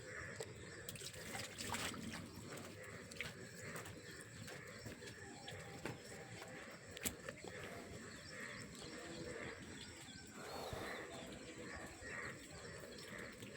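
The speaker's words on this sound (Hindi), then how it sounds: "क्योंकि अभी भी बूंदाबांदी चल रही है" Water trickles and drips steadily outdoors during a light drizzle, with soft patters, occasional louder drops and faint bird calls in the background.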